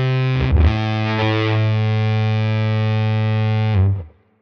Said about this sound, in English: It almost sounds like there's sort of some wacky warble effect happening on some of these notes.